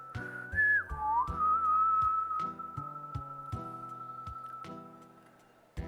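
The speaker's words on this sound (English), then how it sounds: "I would love to be able to whistle this theme." A person whistles a melody from Final Fantasy VI, a clear, bright tune that slides between held notes, with soft game music and ticking beats beneath and no talking.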